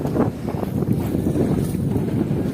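A boat carrying a floating restaurant cruises on a river at Kattankudy, its steady low engine rumble and water wash continuous under buffeting wind noise, with no talking.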